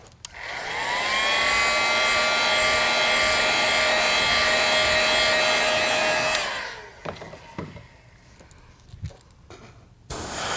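Heat tool heat-setting freshly airbrushed paint on a pink crawdad-pattern soft plastic bait blows a steady, loud whirring hiss for about six seconds, then shuts off, leaving faint handling clicks and taps.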